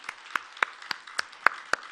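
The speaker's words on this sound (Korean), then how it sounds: "이 시간 우리 다시 한번 그 하나님께 감사와 영광의 박수를 올리도록 하겠습니다." A church congregation claps during a New Year's Eve service, sparse and fairly faint, with about seven distinct claps spaced irregularly across two seconds rather than a full roar of applause.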